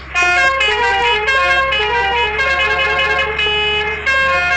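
A loud, harmonically rich vehicle horn in a video game blares almost continuously with brief breaks and shifting pitches, up close, with no voices.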